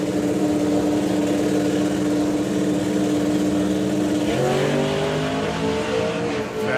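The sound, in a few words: drag racing car launching down the strip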